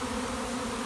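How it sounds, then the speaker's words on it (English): A honeybee swarm gathered on a tree drones in a dense, continuous buzz, steady and fairly close for a brief moment, with no other sounds. "Some bees are just hanging out waiting for the others to make up their mind where to go."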